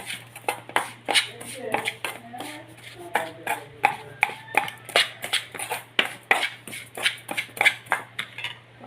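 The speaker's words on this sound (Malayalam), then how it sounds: "നന്നായിട്ട് ഇളക്കി കൊടുക്കാം" A spoon stirs roasted coconut and spice powder in a hot clay pan for prawn theeyal, making a quick, steady run of close scraping clinks and taps, with no voice.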